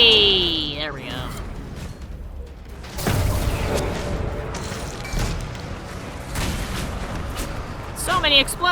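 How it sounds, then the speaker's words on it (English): Explosions, bomb blasts and magic effects in the video game Dragon Age: Inquisition, a cluster of booming hits and crackling impacts with swooping tonal spell sounds at the start and end, fairly loud throughout. "So many explosions, so many bombs"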